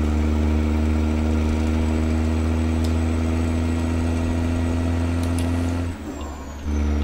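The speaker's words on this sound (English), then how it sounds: "Beefy little engine here." A Kenworth W990 truck engine idles in American Truck Simulator, a loud, steady low rumble that holds evenly before briefly dipping near the end.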